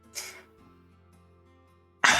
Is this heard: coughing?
yes